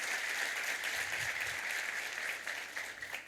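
An indoor audience at a sales team meeting claps steadily for the lead team, a dense, sustained round of applause with no voices over it.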